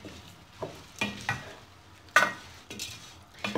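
Lentils tipped into a hot oiled pot and stirred, giving a few separate sharp scraping and sizzling bursts with quiet gaps between them, close by and with no talking.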